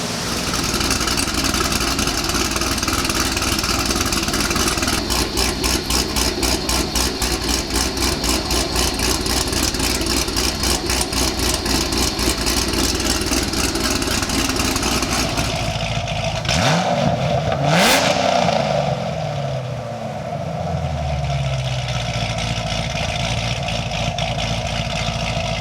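A Chevrolet Corvette C6 ZR1 with aftermarket cams runs loud and close, its choppy lumpy idle pulsing steadily before a sharp rev rises and falls near the end, with no talk over it.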